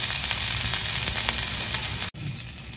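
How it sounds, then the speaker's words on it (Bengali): Whole cauliflower fries gently in a pan, giving a steady, close sizzle with soft crackles that briefly cuts out near the end before resuming. "এখন আমি যে ফুলকপিটা দিয়ে দেবো, একদম সাবধানে আস্তে আস্তে ভাজবো"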